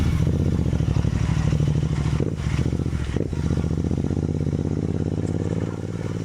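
A heavy motorcycle rumbles along a broken off-road mountain track in Fozal Valley, its engine droning steadily with clatter and scraping jolts from the rough surface, close and loud throughout.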